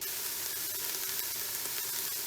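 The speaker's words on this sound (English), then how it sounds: "So while the onions and veggies are sauteing" Chopped onions, green pepper and carrot sauteing in a pan for chili give a steady, even sizzle of frying, close and continuous with no talk.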